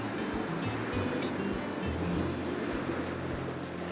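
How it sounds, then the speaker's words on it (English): Gentle waves rolling and breaking over rocks along the shore, a continuous soft wash of surf at moderate distance with low rumbling undertones and no voices. "gentle roll cascade of the waves breaking over the rocks in front of me"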